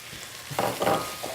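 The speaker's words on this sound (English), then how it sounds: "another thing that smells delicious is actually green onion here. We're gonna fry that up as well." Ginger and green onion frying in a restaurant wok at Moon Wok Restaurant, heard as a brief, close sizzle that swells in a couple of short bursts, with no talking.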